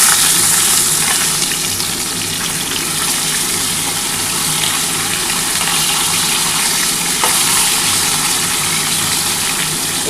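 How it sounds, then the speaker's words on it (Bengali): Pieces of katla fish fry steadily in hot oil, a dense, continuous sizzle that stays loud and even throughout with no voices. "এই 3 পিস মাছ ভাজা হয়ে গেলে আমি কিন্তু সমস্ত মাছ তাহলে ভাজা হয়ে যাচ্ছে"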